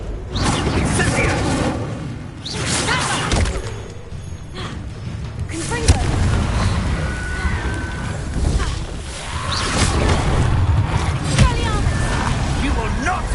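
Booming fire spell blasts and crashing combat effects in the Hogwarts Legacy video game, repeated bursts over a dense soundtrack with shouting voices throughout.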